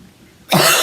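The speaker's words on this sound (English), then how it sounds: "I'm going to start coughing now." A single sharp, loud cough bursts out suddenly after a quiet moment, close to the microphone, with no talking.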